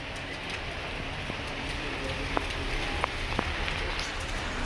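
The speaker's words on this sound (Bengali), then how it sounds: "এখন প্রচণ্ড বৃষ্টি পড়ছে, প্রচণ্ড" Heavy rain falling in Lachen, North Sikkim: a steady, moderate hiss of rain on surfaces with a few scattered drop ticks, heard alone without talking.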